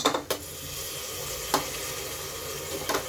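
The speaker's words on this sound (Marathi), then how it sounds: "आधी आपण मटण छान, मटणाचा खिमा चांगला परतून घेऊया" Mutton mince sautéing with onions in a pan gives a steady soft sizzle, broken by a few sharp scrapes and clinks of a spoon stirring against the pan.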